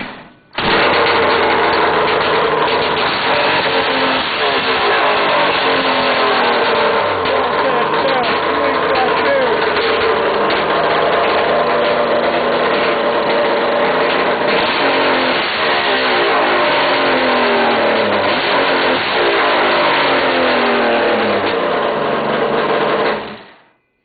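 Two 1975-76 Kawasaki H2 two-stroke motorcycles idle and rev together, a loud, continuous raspy, buzzing two-stroke clatter with repeated throttle swells; someone talks over the engines.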